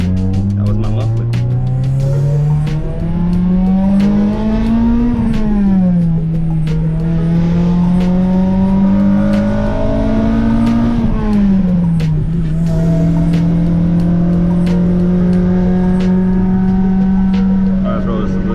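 A 2002 Acura RSX Type S engine pulls through the gears on the road, with the exhaust note rising, dropping at shifts and settling into a steady loud drone, muffler rumble prominent from inside the car.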